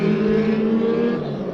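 A race car's engine roars steadily at close range as Hazelton's number 15 car pulls away from the pack in a dirt-track heat race at Bakersfield Speedway, a sustained loud drone with no talk over it.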